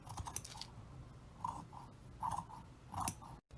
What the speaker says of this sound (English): Cut out your body pieces and cut out your yoke pieces.